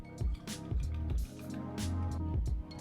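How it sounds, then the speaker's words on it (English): A watercolor paintbrush rinsed in a water cup makes close, wet swishing and dripping sounds in short repeated bursts, with soft knocks of the brush against the container. "I'm rinsing my brush."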